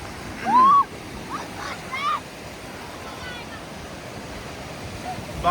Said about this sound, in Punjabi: ਉਹ ਵੇਖੋ ਕਿੱਡੀਆਂ ਉੱਚੀਆਂ ਉੱਚੀਆਂ ਛੱਲਾਂ